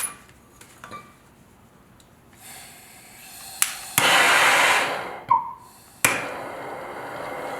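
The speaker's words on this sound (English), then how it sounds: "Take your torch." A torch heats a well pump pipe during a pump replacement: a few faint clicks, then a broadband hissing roar that swells loud, cuts out briefly and flares again, alone with no talk.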